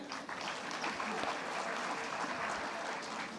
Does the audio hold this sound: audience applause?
yes